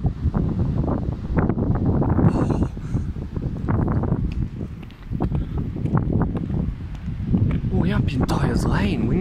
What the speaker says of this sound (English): We're really windy here.